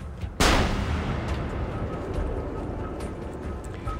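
A single loud gunshot cracks in Assassin's Creed Revelations, a sharp close report followed by a long decaying echo and ambient crowd noise, with no talking.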